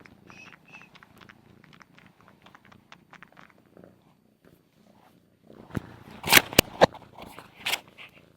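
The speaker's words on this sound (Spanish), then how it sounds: "El ronroneo graba." A pet cat purring softly and steadily at close range, followed by louder rustling and crackling handling noises near the microphone; no speech.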